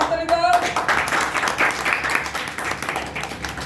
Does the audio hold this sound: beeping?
no